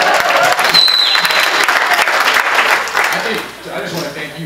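Loud audience applause fills the room and begins to fade toward the end, with a voice briefly heard over the clapping.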